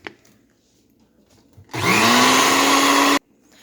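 A kitchen blender whirs loudly for about a second and a half as it churns Ivory soap with red dye, starting and stopping sharply against a quiet room.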